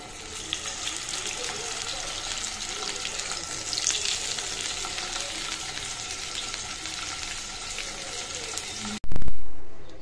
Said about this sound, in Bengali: এখন আমি এই দুটো ভাজতে দিয়ে দিব।